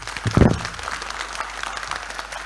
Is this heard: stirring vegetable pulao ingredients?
no